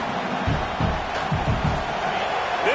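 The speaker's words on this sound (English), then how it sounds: "This crowd bringing the energy and noise early" An American football stadium crowd roars in a broad, continuous wash of noise, with a few thumping bursts rising out of the din early on.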